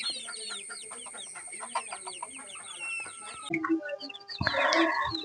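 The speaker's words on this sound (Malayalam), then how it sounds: "നമ്മളെ ഇവിടെയുള്ള കോഴികളൊക്കെ അത്യാവശ്യം വലുപ്പം വെച്ചു കണ്ടല്ലേ നല്ല സൂപ്പർ കോഴികളാണ്" Several chickens cluck and chatter close by in a busy, overlapping flock, with a louder burst of squawking near the end.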